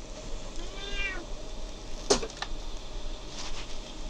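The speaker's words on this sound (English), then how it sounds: "Oh, and I have a cat forcing his way onto my lap." A house cat on a person's lap gives a drawn-out meow, then a sharp brief sound and a few fainter squeaky fusses, close and fairly quiet with no talk.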